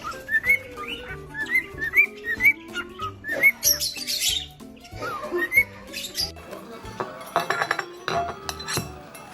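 Lovebirds chirp and squawk close by in a busy run of sharp, high tweets and rising whistles, mixed with clinking taps, without speech.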